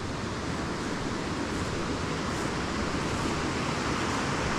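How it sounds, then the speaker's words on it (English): A small stream pours over little drop-downs in a continuous, broad rushing roar that is close and steady throughout, with faint wind noise against the microphone and no voices. "you can hear the power of that water running over these little drop downs."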